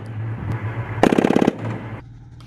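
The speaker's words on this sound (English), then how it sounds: "fired the Bradley's 25mm cannons as part of the field training" A Bradley fighting vehicle fires its 25mm cannon during field gunnery training, a loud, rapid burst of roughly a dozen heavy shots over a low engine rumble.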